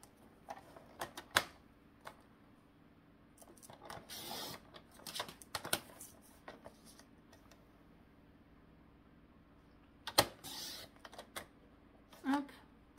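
Paper pieces for a simple accordion-style mini album being cut, with scattered crisp snips and rustling bursts, near and fairly quiet, separated by pauses, with someone speaking in between.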